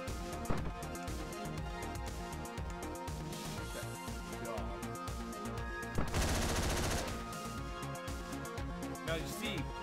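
Rapid bursts of gunfire in the video game Hotline Miami crackle over a busy, loud game soundtrack, with a dense volley in the middle.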